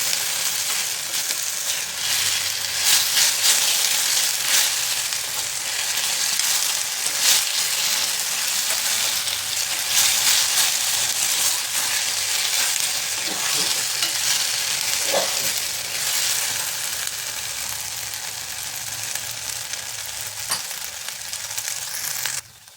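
Chilli paneer stir-fried on full flame sizzles loudly and continuously in a hot pan, with scraping stirs and occasional clinks throughout and no talk.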